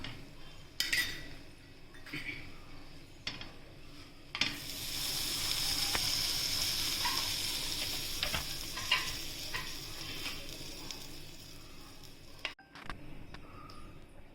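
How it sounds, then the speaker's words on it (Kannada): Pav buns toast in butter on a hot griddle for Mumbai street-style pav bhaji, a steady soft sizzle with scattered clinks and scrapes of a spatula against the pan, no voices. "ಎರಡು ಬದಿ ಬೆಣ್ಣೆ ಹಾಕಿ ಕಾಯಿಸ್ಬೇಕು."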